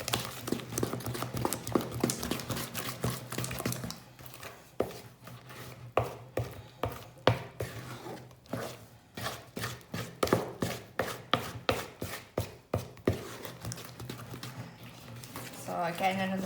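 Victoria sponge cake batter, thick like porridge, stirred by hand in a bowl, with repeated scraping and knocking strokes in an irregular rhythm, close and fairly quiet, with someone talking at times.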